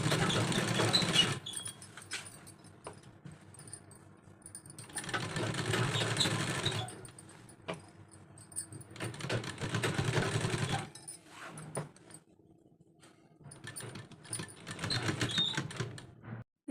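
A sewing machine runs stitching the neckline of a kurti in several bursts, each lasting a few seconds, separated by quiet pauses, close and steady with a whirring mechanical rattle.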